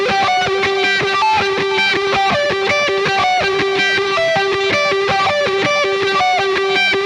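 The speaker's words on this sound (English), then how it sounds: "This is a thing that digitally recreates amps, and I plug it right into my computer, and it makes tasty sounds like this." Electric guitar run through a digital amp modeler on a computer plays a fast, steady, repeating distorted riff, dense and loud, with no talk over it.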